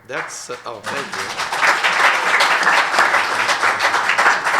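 A Gen Con 50 panel audience breaks into sustained applause, starting after a speaker's voice and swelling into a dense, even wash of clapping from a large indoor crowd.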